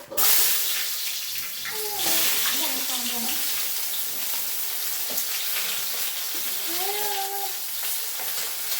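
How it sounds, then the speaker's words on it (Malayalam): Sliced big onions fried in hot oil for a home-style chicken curry give a steady close sizzle, with brief stirring and a few background voices and clatter. "അതിനകത്തേക്ക് വലിയ ഉള്ളി ഇടാം"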